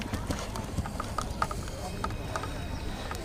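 Hooves of a big show-jumping horse clip-clopping on course, soft rhythmic thuds under continuous arena commentary from a voice.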